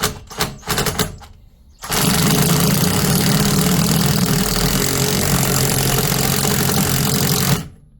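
A power drill drives a large bolt through a universal socket, straining under heavy load in one loud sustained whir after a few short bursts and pauses, with no talking.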